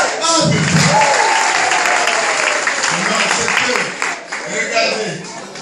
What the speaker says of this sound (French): Nous allons d'abord féliciter et applaudir le grand département du Nord.